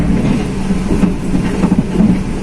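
The Majapahit economy New Generation passenger train in motion, heard from inside the carriage: a loud, steady low rumble with rhythmic rattling and clacking of the wheels and car body throughout.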